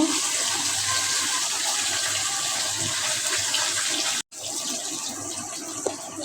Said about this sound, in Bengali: কষানো শেষ জল দিয়ে দিই